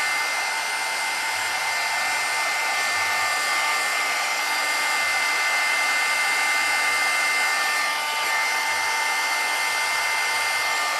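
A heat tool blows hot air to dry embossing powder in a paper craft, a loud continuous whooshing roar held steady throughout with no talking.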